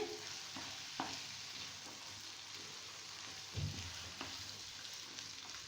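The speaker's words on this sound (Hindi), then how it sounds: "चने डाल के हम इन्हें 30 सेकंड के लिए भूनेंगे।" Chickpeas roast and are stirred in a pan for Lahori chikar cholay, giving a faint, steady sizzle broken by a few soft scrapes and taps of the spoon.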